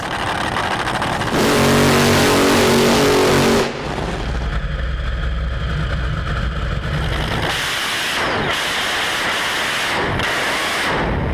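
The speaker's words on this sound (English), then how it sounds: "watch some top fuel cars again" Top fuel drag racing cars at a race meeting, a deafening sustained engine roar for a couple of seconds, then loud rumbling and further bursts of high-power engine noise with no talk.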